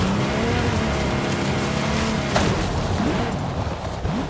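Steady engine drone of a car driven in an open-world racing video game, cruising around the map perimeter near an expressway, loud and continuous with slight pitch shifts and no voices.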